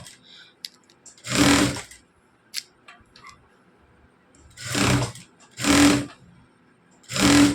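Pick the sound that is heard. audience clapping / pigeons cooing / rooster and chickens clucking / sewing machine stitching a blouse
sewing machine stitching a blouse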